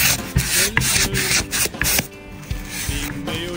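A kitchen knife is sharpened on a sharpening stone with a Pro Edge system, giving repeated close, scraping strokes of steel over stone in an uneven rhythm with no voices.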